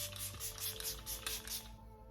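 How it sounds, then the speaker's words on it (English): Makeup setting spray hits a face in several quick rhythmic pumps, a soft airy hiss close by, with music faint underneath. "I'm going to get that and spray my face essentially."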